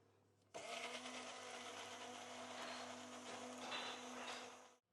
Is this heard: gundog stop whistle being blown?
no